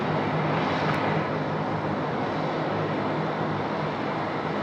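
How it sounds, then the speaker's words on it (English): A Jetstar airliner bound for Honolulu rolls out for takeoff on Sydney runway 16 right at night in heavy rain, its engines a loud, steady broadband roar with no voices. "Jetstar 3 now is lined up runway 16 right, and it's time to go"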